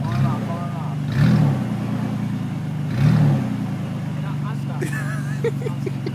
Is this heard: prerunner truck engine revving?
yes